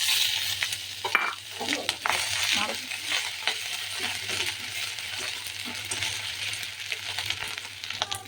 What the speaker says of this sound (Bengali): এখন আমি দিয়ে দেবো আদা বাটা আর লঙ্কা।